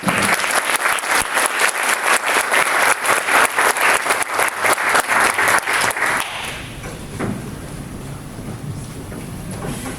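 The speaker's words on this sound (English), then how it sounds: "Please welcome His Excellency with a big round of applause." Loud, dense applause from an audience welcoming a keynote speaker at a Thailand–Singapore relations event, steady for about six seconds and then thinning to scattered claps and room murmur.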